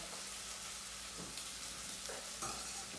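Spiced pumpkin soup with garlic and spices being stirred in a pot, a soft continuous scraping and simmering hiss with a few brief louder spoon strokes near the end, no voices.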